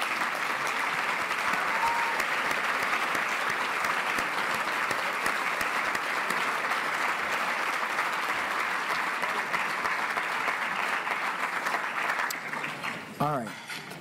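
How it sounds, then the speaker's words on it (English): A large conference audience at an awards ceremony applauds the board of directors with sustained, dense clapping that holds steady and then tapers off near the end, where a voice briefly comes in. "please stand up. And if you wouldn't mind, just give them acknowledgement and a round of applause."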